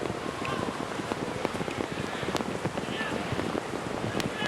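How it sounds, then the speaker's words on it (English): Heavy rain pours down on a football ground during a Hong Kong versus Sri Lanka match, a dense continuous patter mixed with wind buffeting the microphone, steady throughout with faint crowd or voice sounds beneath. "The rain is back. It's really starting to come down now."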